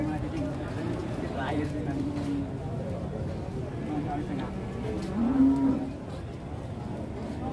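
A one-ton cow moos once over a busy crowd at a market, with people talking all around and steady background hubbub.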